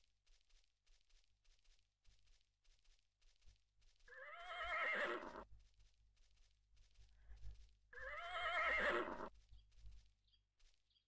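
Two loud horse whinnies in a riding-school horse game's stable, each a rising then falling cry about a second long, separated by a pause filled with soft hoof shuffling and low thumps.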